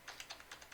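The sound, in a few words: typing an ID number on a computer keyboard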